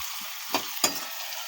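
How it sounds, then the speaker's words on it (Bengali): Square-cut capsicum and vegetables stir-fry over a medium gas flame for chilli chicken, with a soft sizzle underneath two quick, distinct scrapes of the spatula about a third of a second apart. "গ্যাসের ফ্লেমটাকে মিডিয়ামে রেখে ভেজিটেবলগুলো এক থেকে দু মিনিট নেড়ে ছেড়ে নিচ্ছি"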